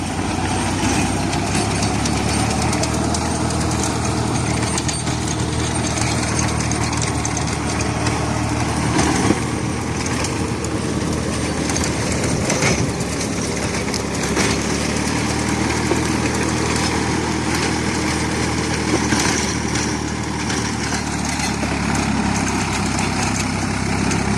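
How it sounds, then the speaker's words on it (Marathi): A heavy Sonalika 32 hp orchard tractor engine running a rotavator drones steadily and loudly throughout, a constant low rumble with mechanical clatter and no pauses. "हेवी ट्रॅक्टर आहे मित्रांनो, बघू शकता आपण."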